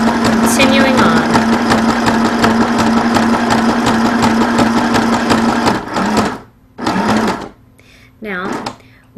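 Janome Sew Mini sewing machine stitching in a steady rapid whir for several seconds, then short stop-start bursts as it is paused and restarted, close and loud with a person talking over it.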